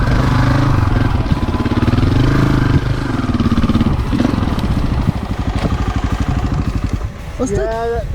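Carbureted dirt motorcycle engine being ridden above 9,000 feet on an adventure ride near Buena Vista, with a steady, loud pulsing drone and throttle shifts. Someone speaks over the engine.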